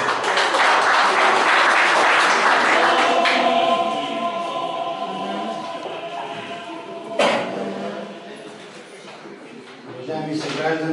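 Audience applause at the opening of an art exhibition by Ivan Ablanski marking the 140th anniversary of the April Uprising, loud and steady at first, then thinning out, with a voice speaking over the fading claps.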